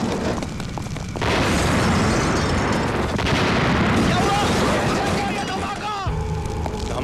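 A loud, sustained explosion in a 1997 Hindi film rumbles and roars with crackling debris, filling the space, followed by a fainter squeal as it dies down.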